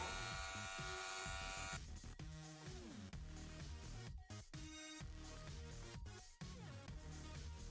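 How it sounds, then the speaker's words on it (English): Electric hair trimmers run steadily while a boy's neckline is cut during a short haircut, a close, continuous buzz with slight shifts in pitch as the blades press against the skin. "So make your neckline with your trimmers facing this way."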